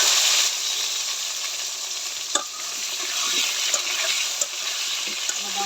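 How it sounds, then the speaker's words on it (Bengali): Chopped potatoes and eggplant fry in oil in a pan with a continuous loud sizzle, broken by occasional sharp scrapes and clicks as they are stirred. "আলু বাগুনটা একটু ভালো করে ভেজে নিব।"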